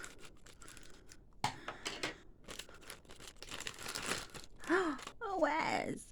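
Scissors snip and crinkle through the plastic packaging of a jumbo mystery capsule in a series of close, irregular cuts and rustles, with brief vocal sounds among them.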